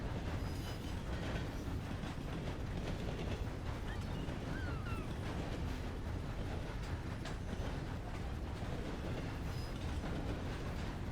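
A train runs steadily in a railroad roleplay video game, with continuous rumbling wheels and clickety-clack rhythm filling the whole stretch at an even level, with no talk.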